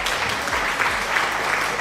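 An applause sound effect plays during a live stream, a short burst of steady crowd clapping at moderate level with no talk over it.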